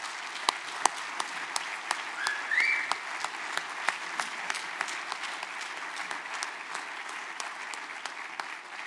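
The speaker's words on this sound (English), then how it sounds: "give a big round of applause for the drone team" An audience applauds a drone team at a closing panel session. Scattered claps come steadily throughout, fairly distant and a little sparse, with a faint voice briefly audible near the start.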